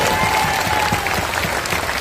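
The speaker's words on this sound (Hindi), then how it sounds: "एक बार इनके लिए जोरदार ताली बजाइए" A crowd at a talk with Prashant Kishor bursts into loud, dense applause for a young man who earns income from social media videos, close and continuous for the full two seconds.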